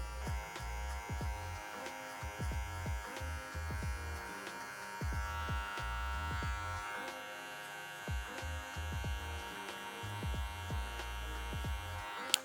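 Electric hair clippers with a number 3 guard and the lever fully open cut hair at a barbershop, a steady close buzzing hum with repeated soft swishing passes through the hair.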